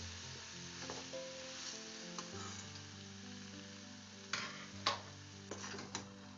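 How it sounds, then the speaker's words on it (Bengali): Tamarind pickle being stirred with jaggery in a pan, soft scraping and faint sizzling beneath sustained background music, with a few louder clinks of the spoon near the end and no talking. "এইভাবে আমি খুব ভালো করে মিশিয়ে নেব"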